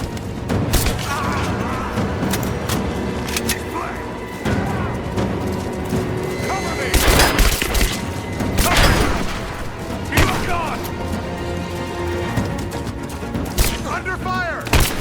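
Rise of the Tomb Raider combat, with dense gunfire bursts and booming explosions layered over shouted voices, loud and chaotic throughout with several heavier blasts.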